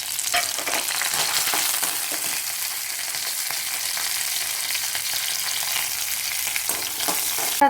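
Green chili, ginger and curry leaves fry in oil in a pan for pickle, a continuous bright crackling sizzle with occasional stirring scrapes, close and steady throughout.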